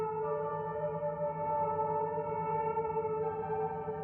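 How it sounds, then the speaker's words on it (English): A sustained, reverberant melody from the video game Fatal Frame: Mask of the Lunar Eclipse, played as a practice piece from a score, with steady held tones and a slight change near the end, no voices. "According to the score, it should sound like this."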